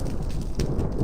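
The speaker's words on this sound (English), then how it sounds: "Thunder" A short burst of rumbling Minecraft thunder, broad and loud for about a second, with a crackling noisy texture and no speech.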